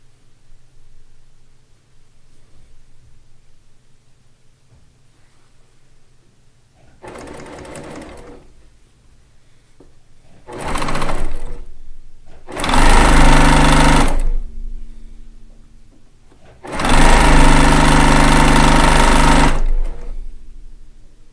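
A sewing machine stitching a Lacey Log Cabin quilt top runs in loud bursts, a short run and then two longer sustained runs, each separated by quiet pauses filled with faint handling noises.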